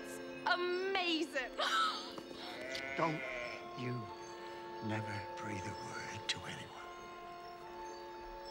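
Several sheep bleat in short wavering cries at close range, with background voices and a quiet hum beneath.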